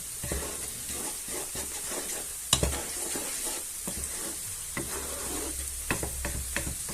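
Paprika is stirred into a frying pan: a soft, steady sizzle runs under intermittent scraping and tapping of a utensil, with one sharper knock early on; the whole scene stays fairly quiet and close.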